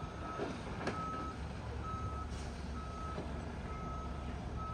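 A truck moving a portable modular classroom into a tight spot at a school gives steady, evenly spaced reversing beeps over a low engine rumble, heard from a moderate distance with no talk.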